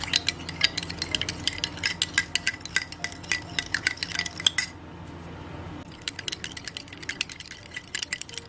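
Salt being stirred into a dish soap slime mixture in a bowl, heard as rapid, close clinking and scraping strokes. They stop for about a second, then resume just as briskly, with no talking.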